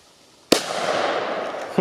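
A red flare firework ignites with a sharp pop and then burns with a steady, loud hissing crackle close by, with no talk over it.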